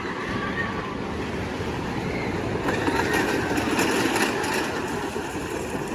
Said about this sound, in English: just wait for that noisy Big Dipper train to go past